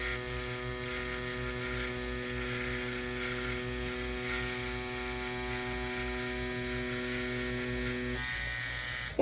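A tattoo machine fitted with a round shader runs steadily at 7 volts, giving a continuous, even electric buzz with a strong hum that holds constant before a brief shift near the end.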